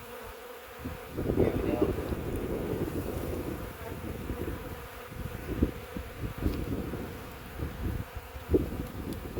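Honey bees buzzing in a dense, continuous drone around an open hive during an inspection, close to the microphone with some wind noise, while a person speaks briefly.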